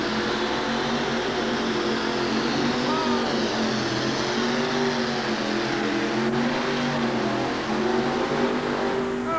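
A van's engine roaring steadily as it pulls a sled at a 1988 USHRA truck pull in Albany, loud and sustained with a shifting pitch, under crowd noise and an announcer's voice.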